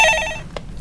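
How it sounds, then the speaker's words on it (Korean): A telephone bell rings once, loud and close, during a Korean stock-market call-in broadcast. The ring fades after about half a second, followed by a soft click. "예, 전화 받아보겠습니다."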